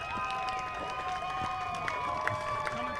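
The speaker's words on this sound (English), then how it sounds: "You can hear the Cody crowd going wild there" Cody supporters cheering at a high school all-star football game, a distant, fairly faint roar of crowd noise with scattered claps and shouts, a voice speaking over it.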